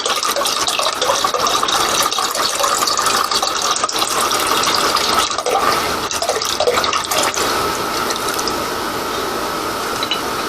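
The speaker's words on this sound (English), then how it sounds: "I'm going to pour it in here." Homemade plum wine pours continuously into a container in a steady splashing, gurgling stream, with faint clicking and rattling mixed in.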